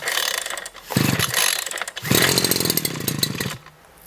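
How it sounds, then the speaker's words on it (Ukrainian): A Dnipro-M petrol brush cutter being pull-started: two loud raspy bursts of small two-stroke engine noise, each about a second long, with brief gaps between them, close to the microphone. "Як почули, з третього разу хапнула та завелася."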